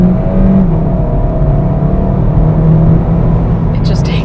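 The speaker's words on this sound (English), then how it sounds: "you probably heard the augmented engine noise" Volkswagen Golf GTE plug-in hybrid accelerating hard in GTE mode, its synthesized augmented engine note a steady, loud low drone and whir heard from inside the cabin, continuous for several seconds.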